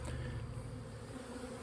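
Dense, steady drone of honey bees swarming around a 5-frame nuc during a split, with queen cells present, a close and continuous buzz with layered wingbeat tones and no talking.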